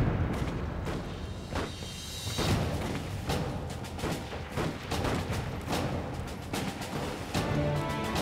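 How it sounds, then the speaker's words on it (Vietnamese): Cannon artillery fire in a Chinese anti-Japanese war action drama: repeated heavy booms and sharp blasts crowd over a constant rumbling battle din for the whole stretch, loud and close. "Đại pháo!"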